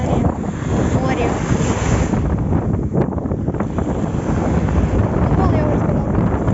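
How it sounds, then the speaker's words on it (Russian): Rough Black Sea surf off Crimea, a constant roar of waves driven by strong wind buffeting the microphone, loud and continuous with a voice faintly beneath. "Просто море волнуется."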